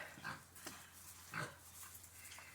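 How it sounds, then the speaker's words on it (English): Pigs on a farm eating old, rain-spoiled hay tossed into a barn corner: faint grunts and rustling chews amid steady background noise, heard at a distance with no voices. "They're pigs. They can pretty much eat anything."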